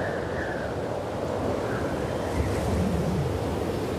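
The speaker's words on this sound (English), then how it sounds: "It's pretty windy." Strong wind in The Last of Us Part 2 sweeps in a continuous, surging rush with a soft whistling layer, steady and fairly loud with no voices over it.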